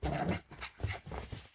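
A pug gives a few short, close dog vocalizations, grunting or barking bursts in quick succession with brief gaps, loud and alone.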